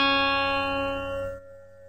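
The high string of a six-string guitar rings out as a single bright, sustained tone with rich overtones, fading and cut off near the end, played alone without any voices.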